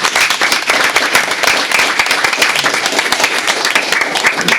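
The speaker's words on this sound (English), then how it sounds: "I would like to ask you to join me in a round of applause for two outstanding trustees." Loud, dense applause from the audience at a public school board meeting honoring two departing trustees, crisp individual claps merging into a steady roar.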